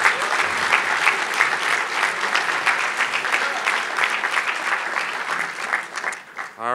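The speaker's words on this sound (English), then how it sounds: "Let's have another round of applause for Speaker Gingrich." Sustained applause for Speaker Newt Gingrich fills a conference hall with a loud, even roar of many clapping hands, holding steady throughout with only a slight dip just before it closes.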